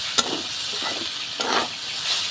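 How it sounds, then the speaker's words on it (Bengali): Mixed vegetables with cumin and coriander powder sizzle in a kadai, a steady close hiss with a few soft stirring scrapes. "সবজির সঙ্গে মশলাটা আমি ভালো করে কষিয়ে নিব।"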